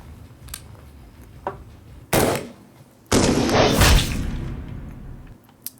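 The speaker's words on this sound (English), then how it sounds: "the AR-15. This is going to be firing your typical 55 grain, again, from Norma Ammunition" Two sharp, loud reports from an AR-15 rifle firing 55 grain Norma ammunition, the second followed by a long trailing boom and echo, with faint background noise in between.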